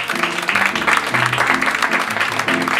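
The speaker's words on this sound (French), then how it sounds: "On l'applaudit, mesdames et messieurs." Applause from an audience at a French-language spoken word and jazz event, broad steady clapping over a low musical hum that fills the whole moment.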